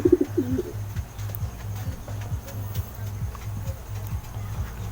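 A racing pigeon coos in a low, repeated rhythmic pattern, close and fairly soft, with a faint background hum.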